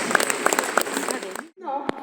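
An audience at a hypnosis show at the Zénith de Rouen claps in a brief, fairly close burst of applause that fades out, mixed with a speaking voice.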